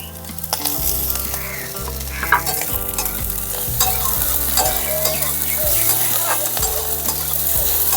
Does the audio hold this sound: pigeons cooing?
no